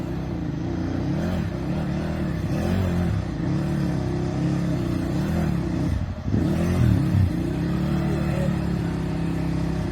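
A KTM 950 SE V-twin motorcycle engine revs repeatedly close by, its loud throbbing note rising and falling in steady surges with a brief sharper burst near the middle and no talking over it.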